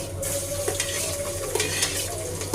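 Fenugreek seeds, cumin and garlic fry in oil in a pan for kadhi, giving a steady close sizzle with a few sharp clinks and scrapes of a spoon stirring against the metal.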